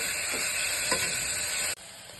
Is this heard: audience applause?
no